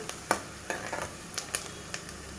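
Sliced onions frying in a pan for mutton curry, with soft continuous sizzling broken by a few sharp crackles and spoon scrapes.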